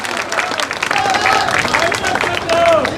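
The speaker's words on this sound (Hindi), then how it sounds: "भाई जोरदार तालियों की गड़गड़ाहट से मान सम्मान।" Dense, continuous clapping rises from a crowd at a political workers' conference. It is loud throughout, with a brief whistle-like tone and a voice speaking over the applause.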